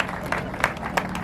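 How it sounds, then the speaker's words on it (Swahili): A crowd at a gathering claps for a woman in scattered, fairly quiet applause. A few louder claps stand out against a steady murmur. "Mpigeni dada makofi jamani"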